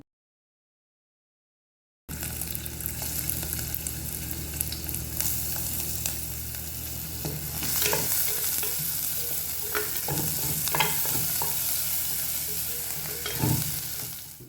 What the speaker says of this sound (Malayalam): എണ്ണയൊക്കെ നന്നായിട്ട് ചൂടായി വരുന്ന സമയത്ത് നമുക്കിതിലേക്ക് നേരത്തെ കട്ട് ചെയ്ത് വെച്ചിട്ടുള്ള ഇഞ്ചിയും വെളുത്തുള്ളിയും കൂടെ ചേർത്ത് കൊടുക്കാം.